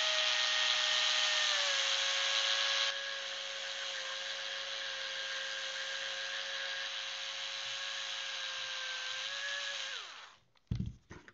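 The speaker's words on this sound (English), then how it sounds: "The nice thing is that we can use the motor screwdriver here." A motorized screwdriver whines steadily for about ten seconds while driving a screw into a 3D-printed humanoid robot leg, its pitch dipping briefly early on, then winding down, followed by a few short clicks.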